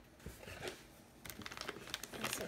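Paper crinkling and rustling while an air conditioner unit is unboxed, a warranty sheet handled in short bursts of crisp crackles close by, quieter at first and busier toward the end.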